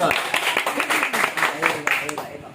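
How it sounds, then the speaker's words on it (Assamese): An audience at a 2021 theatre camp rehearsal claps steadily through the whole stretch, a dense patter of many hands at close range, with some voices mixed in under the applause. "এটা হাত চাপৰি হ'ব লাগে"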